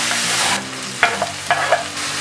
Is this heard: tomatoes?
yes